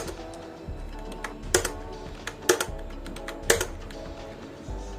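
Scattered key presses on a computer keyboard, a few sharper clicks standing out among lighter taps over a faint background hum, with no voices.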